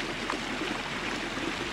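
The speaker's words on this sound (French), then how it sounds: "Ce petit bruit d'eau." A small stream trickles and babbles steadily among little cascades in the dry, dusty Puna highlands, a soft continuous wash of running water close by with no voices.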